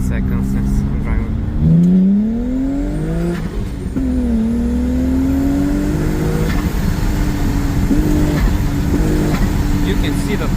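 A supercharged BMW E36 328i accelerates hard from inside the cabin, its engine note climbing steadily through the gears with a supercharger whine over the rumble. Brief talk mixes in.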